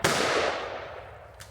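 A single sharp gunshot cracks at the start, then fades into a short decaying echo.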